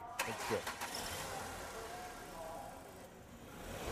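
A car engine fitted with an Aquahol water-gas system cranks and catches, then settles into a steady, fairly loud idle that runs on with no one talking.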